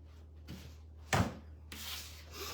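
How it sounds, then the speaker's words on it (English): Sawdust being wiped off a craft work surface into a trash can, heard as a few short, close rubbing and brushing sweeps with one sharper scrape partway through. "I'm gonna wipe all my sawdust into the trash."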